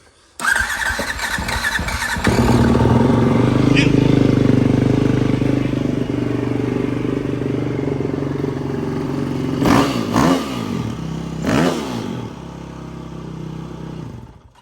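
A Yamaha WR450F dirt bike with electric start and Two Bros exhaust fires up close by, then idles and rises into several sharp throttle blips near the end.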